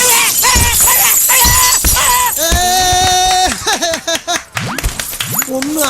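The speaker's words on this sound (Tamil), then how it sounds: "உன் கண்ணாடி தானே உடஞ்சு போச்சு" Car window glass shatters with a loud crash amid a comedic roadside scene, bright crackling debris bursting in several hits over a few seconds, with shouting voices and music-like tones around it.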